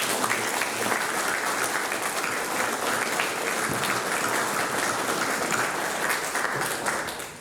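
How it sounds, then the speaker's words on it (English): Sustained applause from an audience at a boys' school prize giving, loud and continuous clapping for several seconds before tapering off at the end. "Let's give Isaac another round of applause."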